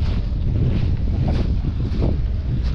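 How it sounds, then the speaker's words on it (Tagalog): Strong sea wind on a small fishing boat, heard as loud, buffeting rumble against the microphone with a faint wash of water underneath, steady throughout and without speech. "Medyo mahangin po dito ngayon."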